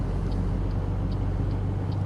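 A heavy truck engine in American Truck Simulator labors up a hill, a steady, loud low drone that holds constant throughout with no letup.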